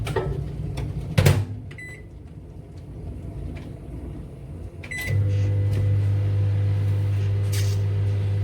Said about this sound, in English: And that goes in the microwave.